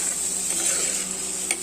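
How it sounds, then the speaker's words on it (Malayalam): Vinegar comes to a boil in a pan for mango pickle while being stirred, giving a brief, close bubbling hiss with a soft scrape of the spoon. "അപ്പോൾ തിളച്ച് വരുന്നുണ്ട്."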